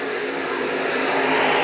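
IMCA modified race cars roar together at the green flag of a dirt-track heat race at Bakersfield Speedway, a dense loud engine wash swelling slightly as the field accelerates.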